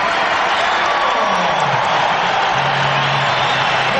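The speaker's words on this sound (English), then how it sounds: "The people are giving him a very deserved round of applause." A big arena crowd of over 20,000 at the 1981 NBA All-Star Game at the Coliseum applauds and cheers in a steady, even wash of sound, with talk faintly underneath.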